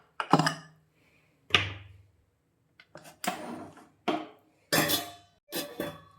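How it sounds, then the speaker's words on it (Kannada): Dishes and vessels are washed in a kitchen sink. Separate clinks and clanks of metal and crockery land in irregular bursts with short pauses between them, close by and with no talking. "ನಾನು ಇನ್ನೂ ಸ್ವಲ್ಪ ಪಾತ್ರೆಗಳೆಲ್ಲ ಇದೆ ಸಿಂಕಲ್ಲಿ, ಅದೆಲ್ಲ ಸ್ವಲ್ಪ ವಾಶ್ ಮಾಡಿ ಇವಾಗಲೇ ಇಟ್ಕೊಂಡ್ರೆ"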